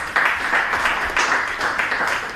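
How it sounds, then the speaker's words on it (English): Steady crowd applause, many hands clapping at once, loud and continuous throughout with slight swells. "Let us just give them a round of applause."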